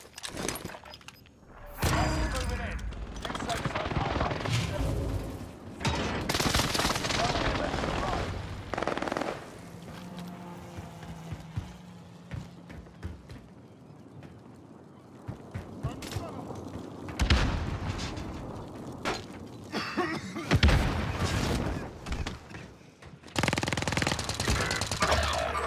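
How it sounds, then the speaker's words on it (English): Precision airstrike in Call of Duty Modern Warfare, with heavy rattling gunfire and booming impacts in loud surges separated by quieter stretches, plus some voices and game sounds mixed in. "Enemy precision airstrike."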